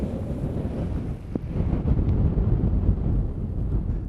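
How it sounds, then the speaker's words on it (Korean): Wind buffets the microphone over a continuous wash of surf rolling onto Shell Beach in Shark Bay, a shore built of shells, with the roar swelling midway and holding steady, no voices. "파도 끝이 없네."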